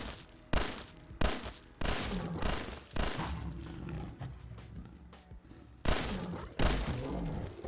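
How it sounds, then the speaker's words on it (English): A lore-friendly burst-fire weapon from a Fallout 4 mod firing repeatedly, about eight loud, punchy three-round bursts spaced roughly half a second apart, with a brief pause before the last couple, each trailing a rumbling echo. "let's see how burst fire does"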